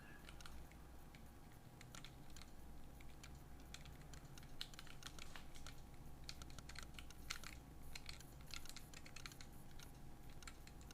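Continuous rapid keystrokes on a wrist-mounted keyboard, the Schist01, clatter close and steady for the whole stretch, an even quick patter of clicks with no talking.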